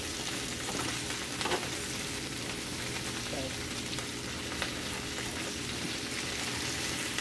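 Cabbage fries in a pan with a dense, even crackling sizzle that runs the whole time. It is moderately loud and near, with a few faint bumps as the leaves are moved around.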